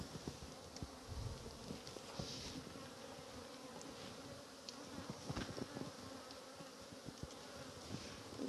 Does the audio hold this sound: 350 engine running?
no